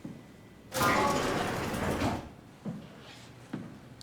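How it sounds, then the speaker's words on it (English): A door opens in the horror video game SOMA with a loud, sustained mechanical slide lasting over a second, followed by two shorter clunks, heard alone without talk. "Hopefully opening that door didn't really inform him."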